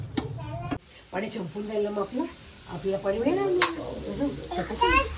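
Phodni (spiced oil tempering) for bharit sizzles steadily in a pan in a home kitchen, a continuous bright hiss running underneath people talking nearby, with a few short clinks and stirring sounds.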